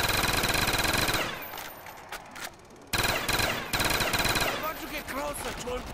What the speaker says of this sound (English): Oh, this is a shotgun.